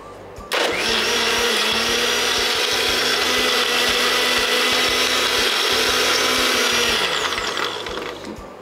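Electric blender whirring steadily while blending a sweet almond milk drink, a loud continuous motor drone that starts abruptly and runs for about six seconds before winding down, with no talk.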